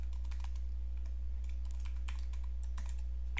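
Quiet computer keyboard typing of a website login, scattered soft key taps over a steady low hum, no voices.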